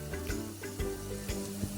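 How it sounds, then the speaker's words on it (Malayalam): Three thinly sliced onions fry in oil for a chicken biryani, giving a soft, fairly quiet sizzle with small bursts of crackle, and no talking. "3 സവാള കനം കുറച്ച് അരിഞ്ഞു വെച്ചിരിക്കുന്നത് അതിപ്പോൾ ഞാൻ എണ്ണയ്ക്കകത്ത് ഇട്ട് വറുത്ത് കോരാൻ പോകും"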